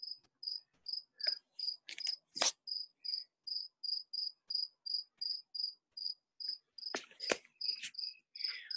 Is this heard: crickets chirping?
yes